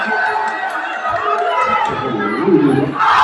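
Dense crowd cheering and shouting at a Muay Thai fight between Kulabkem Petchphosai and Nongmai S.Puangthong, a steady roar with excited voices rising near the end.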